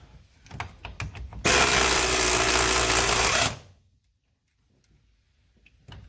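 A power tool drives a socket on transom bolts in a loud, steady whirring burst of about two seconds, set between faint clicks and handling noises.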